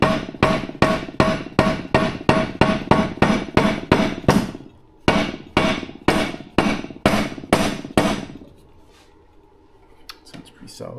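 A hammer taps repeatedly on a Triumph 650 crankshaft in a workshop, giving sharp metallic strikes in quick even runs, a brief pause, then more hits before trailing off into quieter rustling.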